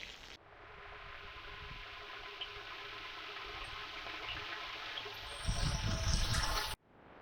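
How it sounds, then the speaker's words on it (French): Water from a pump set in a river gushes steadily through a garden hose onto trees outdoors, a continuous close spray that swells louder near the end before cutting off abruptly. "On en profite pendant qu'il y a la pompe dans la rivière pour arroser un petit peu les arbres."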